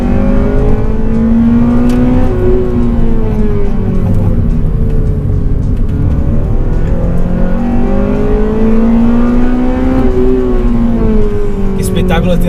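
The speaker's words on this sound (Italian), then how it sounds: "che spettacolo tirare le marce ben sopra gli 8000 giri." Loud, close Honda Civic Type-R FN2 with its VTEC engine revving hard well above 8000 rpm, pitch climbing and falling repeatedly as the gears are pulled.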